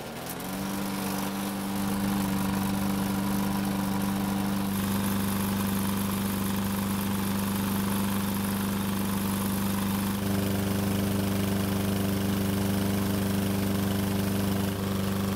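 A Troy-Bilt lawn mower engine with a smoking problem starts up and settles into a steady, loud idle, droning evenly close by with no voices.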